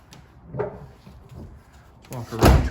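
Car door on a 1968 Dodge Dart GT convertible, opened and then shut with a solid thud near the end, close up, amid faint handling noise.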